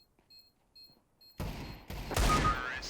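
Sudden loud bursts of gunfire in CS:GO after a quiet stretch with faint beeps, the shots crackling and overlapping in a dense volley.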